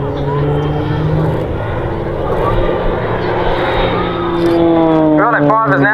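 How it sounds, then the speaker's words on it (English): RAAF Roulette display aircraft droning steadily as it flies a slow loop over RAAF Base Point Cook, the engine tone shifting in pitch toward the end, with a voice talking over it. "Roulette 5 is now putting the aircraft into a slow loop."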